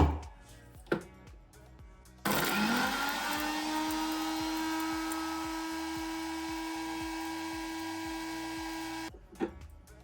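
An electric mixer grinder pulverises black pepper into powder, its motor starting abruptly into a loud, steady, high whine that holds for about seven seconds before cutting off, with quieter clatter before and after.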